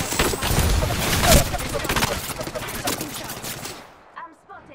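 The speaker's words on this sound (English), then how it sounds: "I'm spotted, taking fire." Gunfire in the video game Apex Legends: loud, dense overlapping bursts of automatic fire that continue for several seconds, then cut off abruptly, leaving a few faint scattered sounds.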